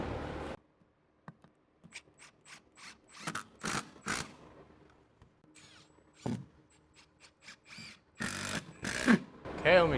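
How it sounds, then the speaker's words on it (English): An electrical box being screwed into a wooden wall stud while new circuits are added: a run of short ratcheting, creaking bursts at close range, with pauses between them and someone talking at times. "we'll go ahead and put the first one in, and then we'll just screw the second one into that"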